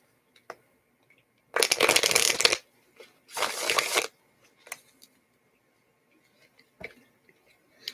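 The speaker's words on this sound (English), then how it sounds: "Shuffle these." Tarot cards are shuffled up close in two loud, rustling riffle bursts of about a second each, separated by a short pause, followed by a few faint taps and clicks in an otherwise quiet room.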